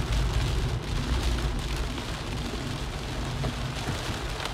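Steady rain falls on a car driving through the wet streets of Brisbane, a dense, continuous hiss over low road rumble with no talking.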